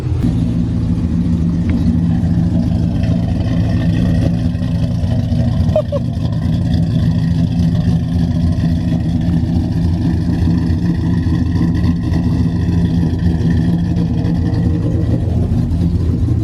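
A cammed Ram truck engine idling loud and close with a lumpy, rumbling lope, steady throughout, with a brief rise partway through and no clear talk over it.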